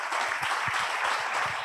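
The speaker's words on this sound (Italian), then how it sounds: "Direi che l'applauso parla da sé" Convention audience in Lestans, Sequals, applauding loudly and steadily, a dense, continuous wash of many hands clapping with no talk over it.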